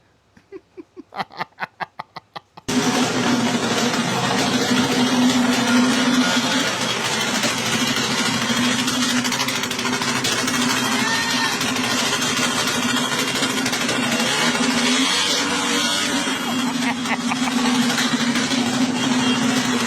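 Vehicle exhaust: a few quick rattling bursts, then the engine settles into a loud, steady idle with a constant low drone that holds to the end.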